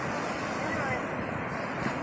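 Sea waves wash onto the beach at Laem Mae Phim, Thailand, on a busy Sunday, a continuous broad hiss of surf mixed with gusting wind noise on the microphone.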